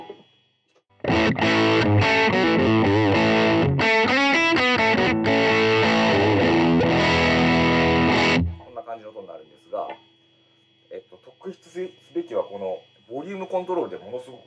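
Electric guitar through a Golden Valve distortion pedal switched on, loud crunchy distorted riffing with bends for about seven seconds, followed by someone talking in Japanese.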